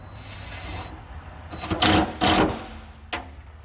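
On a Ram 2500 truck, a bolt is run down and cinched tight, giving a low whirring drone followed by a few short loud ratcheting bursts close up, with no talking over it.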